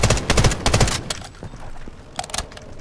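Automatic gun fire in the Delta Force shooter, a close, loud stream of rapid shots that stops after about a second, followed by scattered quieter shots and a short second burst.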